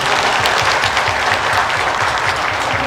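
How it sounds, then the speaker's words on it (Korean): A church congregation claps together in dense, steady applause that holds at full strength throughout, close and loud with no voices standing out. "박수 치면 박수."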